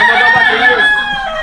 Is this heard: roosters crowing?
yes